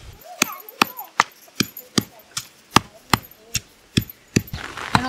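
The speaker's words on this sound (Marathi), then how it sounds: "मग आपण हे हिरव्या मिरची, लसूण, कोथिंबीर वगैरे बारीक करून घेतले" Green chillies, garlic and coriander being pounded fine, a steady run of about a dozen sharp, close thuds at a regular beat, with a denser, quicker flurry at the end.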